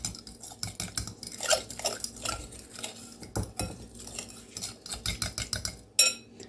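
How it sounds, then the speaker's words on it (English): A fork whisks meatloaf ingredients together in a bowl, clicking and scraping in quick irregular bursts, close and fairly loud, with no talking. "You're going to take your fork and whisk it all together before you add your beef in."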